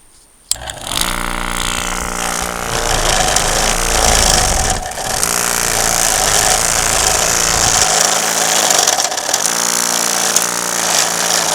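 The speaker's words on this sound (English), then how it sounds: "A little tough going through the bahia grass, but hey, it's getting the job done." An electric edger fitted with a ditching blade cuts through tough bahia grass, giving a loud, continuous motor drone with rough grinding and chattering. It starts abruptly, dips briefly midway and then strains on.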